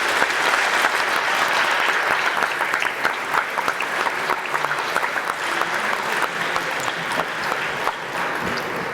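Sustained applause from a large audience at a youth election hustings in Exeter, dense steady clapping filling the whole stretch at an even, loud level.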